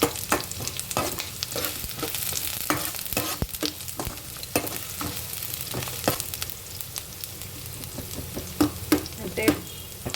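Okra frying in oil in a pan with frequent stirring, giving a steady close sizzle with repeated scraping clicks throughout and no voices.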